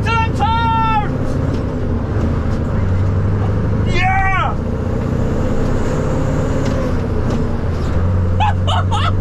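A customised truck pulls away in third gear, its engine a steady loud drone throughout with a low rumble, while voices talk and call out excitedly over it.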